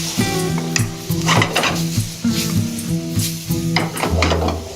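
Butter sizzles in a pan for a lemony shrimp sauce while a utensil stirs and scrapes against the metal in uneven, close strokes.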